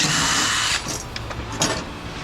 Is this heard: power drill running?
yes